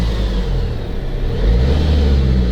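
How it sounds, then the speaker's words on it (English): A 2019 Vauxhall Mokka X Ecotec D diesel engine turning over and catching, its low rumble rising then settling into a steady, close idle with no voices. "That little engine coming to life."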